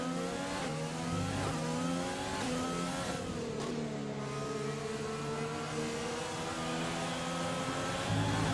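F1 race cars scream past in F1 2020 at the Hungarian GP, a dense layered whine of high-revving engines with pitch rising and falling as the cars run side by side into a corner.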